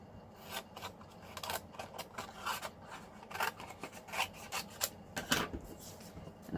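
Paper being cut with a die in a manual die-cutting machine to make a scallop shape for a card, heard as a run of close rasping, crinkling crunches and scrapes in irregular bursts with no talk.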